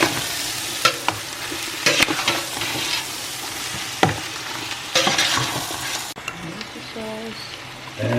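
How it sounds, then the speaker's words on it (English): Crushed tomatoes stirred in a pot for spaghetti sauce, giving a close, loud sizzle broken by sharp spoon knocks and scrapes against the pot at irregular intervals, with a brief quiet stretch and faint voice near the end. "In go the crushed tomatoes. Another stir."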